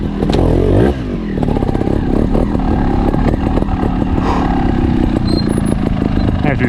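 A 2019 Factory Sherco trials motorcycle climbs uphill, its engine loud and close with continuous revving, sputtering bursts and clattering chassis over rough ground, steady throughout.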